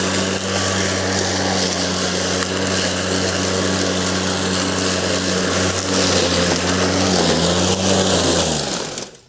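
A Greenworks GD60LM46SP 60V battery lawn mower cuts roughly 30 cm tall, wet grass, giving a steady, loud whirring drone throughout that spins down and fades at the end.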